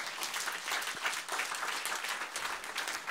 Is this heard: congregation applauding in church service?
yes